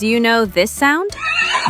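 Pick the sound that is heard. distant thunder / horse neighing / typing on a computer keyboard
horse neighing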